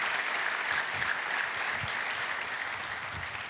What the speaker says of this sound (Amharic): ሁላችሁም አንዴ ያጨብጩ።